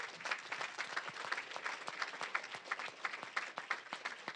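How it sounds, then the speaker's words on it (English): A seated audience claps steadily, a fairly quiet but continuous patter of many hands with distinct individual claps standing out, no talking over it. "Let's give a round of applause."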